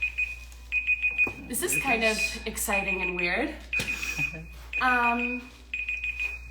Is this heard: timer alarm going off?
yes